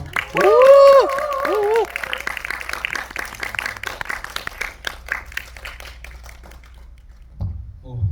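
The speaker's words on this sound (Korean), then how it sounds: "여러분 환호성과 함께 큰 박수 부탁드리겠습니다." Audience at a film director's retrospective event, a voice calling out over a PA system, then scattered but sustained applause and cheering from the crowd that fades before a voice returns.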